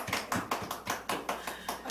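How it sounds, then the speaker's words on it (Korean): Churchgoers at a fund presentation in a church clap in a close, fairly even rhythm of distinct, sharp claps, about four or five per second, with no voices over them. "박수 한번 해주세요."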